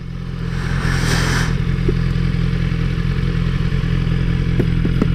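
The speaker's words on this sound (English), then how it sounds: "Let's pull in here. Now I've got to remember I've got no auto blipper to take it down the gears." A BMW S1000RR motorcycle pulling in without an auto blipper, its steady, loud engine drone running throughout with a brief rushing burst early on and a few light clicks near the end.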